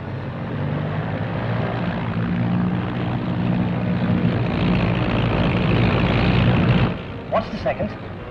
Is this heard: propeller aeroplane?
yes